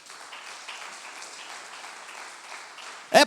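A church congregation applauds with a soft, steady, fairly distant wash of clapping, ending in a brief loud thump.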